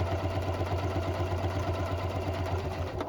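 A Janome Continental M7 sewing machine stitches with its dual feed engaged, a rapid, even mechanical whir and clatter running steadily and close for the whole short stretch.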